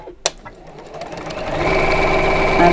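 A sound that fits a sewing machine stitching through a fabric bag: after a sharp click, the motor hum builds steadily to a loud, close, even whir.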